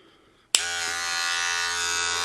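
Near the start a loud electric buzz switches on abruptly after a faint hum, then drones steadily and evenly, close up: electric hair clippers with a 3 guard shaving a head.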